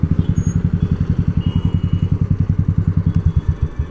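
Royal Enfield Scrambler motorcycle fitted with a Dolphin aftermarket exhaust, running at a steady idle, a loud close thumping beat of rapid even pulses with no speech over it.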